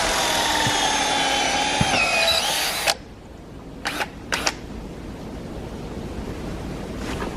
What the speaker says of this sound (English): this is about where we're going to drill.